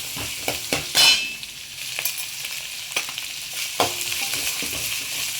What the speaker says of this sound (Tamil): கொஞ்சம் உப்பு போட்டு வதக்குங்க, வெங்காயம் சீக்கிரம் வதங்கிடும்.